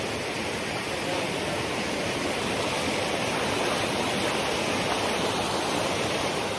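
Water rushing steadily down natural rock water slides at Las Pailas in Luquillo, Puerto Rico, a continuous loud roar with no breaks.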